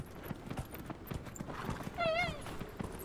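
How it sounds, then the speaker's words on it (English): Horse in the Dragon Age Inquisition video game galloping with steady rapid hoofbeats, then letting out a loud descending whinny partway through, with speech over the action. "most games that have horses, they make this annoying noise and then can't run very far"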